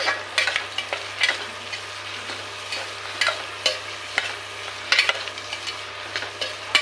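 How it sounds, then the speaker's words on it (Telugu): Chopped carrots are stirred into vegetables frying in a pan, with a soft steady sizzle under repeated scraping strokes of a spoon against the metal, close and fairly clear, with no one talking. "క్యారెట్ కూడా వేసుకుని ఒకసారి కలుపుకుందాం"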